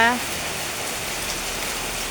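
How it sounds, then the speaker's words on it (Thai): Heavy rain pouring steadily under a dark, overcast sky, a dense continuous hiss of drops on surfaces, loud and close, with a brief voice-like tone right at the start. "ตกได้ตกดีนะจ้าฝน"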